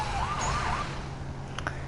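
An emergency vehicle siren wails from a two-seater off-road vehicle in the Lego City Undercover video game on PS4, a short rising and falling tone heard over a low engine rumble, with no talk.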